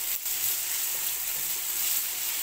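Ground pork with potatoes and carrot sautéing in a pan, a steady close hiss of sizzling oil running throughout with soft stirring.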